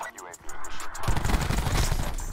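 Maddox RFB rifle gunfire in Black Ops 4, a quiet lead-in giving way at about one second to dense, loud rapid bursts that carry on to the end, with a voice in the mix.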